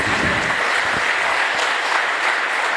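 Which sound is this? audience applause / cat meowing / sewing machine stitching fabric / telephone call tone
audience applause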